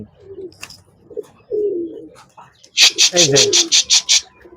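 Roller pigeons coo in a series of throaty, rolling calls close by, ending in a quick rhythmic run of about eight pulses, while someone talks in the pauses between them.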